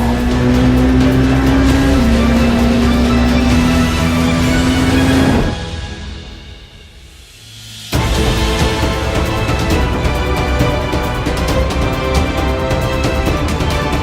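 A Porsche 919 Hybrid Evo race car on the Nürburgring Nordschleife roars loudly at high revs, its engine note dipping briefly partway through before the full, close roar returns.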